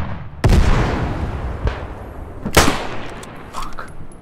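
Artillery guns firing in the video game Beyond the Wire, heard as a few heavy booming blasts, one sharp near shot among them, over a rumbling battlefield background with a voice in the mix.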